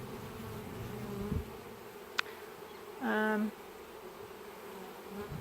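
Honeybees buzz around beehives at an apiary during a nectar flow, with a steady hum of many insects and one closer buzzing pass rising briefly above it.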